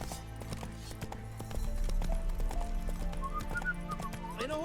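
Roach the horse gallops in The Witcher 3, with steady clip-clop hoofbeats, a brief whinny and some whistling over game music, growing louder partway through.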